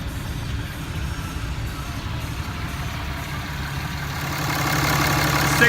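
A stock 2014 Ram 2500 Tradesman 4x4 truck's 6.7L Cummins turbo diesel idles nearby, a steady low rumble that grows a little louder toward the end.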